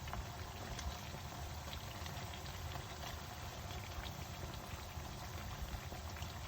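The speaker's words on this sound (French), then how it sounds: "Just fry the pakora until golden brown." Mauritian bhajia (pakora) frying in hot oil over medium heat, a faint, steady crackling sizzle with fine popping bubbles, continuous and even with no voices.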